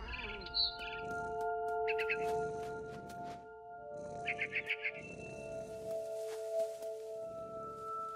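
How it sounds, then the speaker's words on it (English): A barn swallow chirps outside a window in the video game What Remains of Edith Finch, with short rapid bursts of high twittering over a quiet sustained musical drone, followed by a soft rushing ambience. "Then I heard chirping outside my window."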